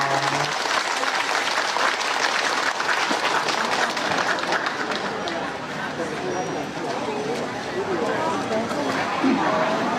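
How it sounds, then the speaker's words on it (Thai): A crowd at a temple gathering in Chiang Mai claps steadily for the full stretch, a dense, even patter of many hands mixed with chatter and voices underneath. "ขอเสียงปรบมือให้กับค่านค่ะ"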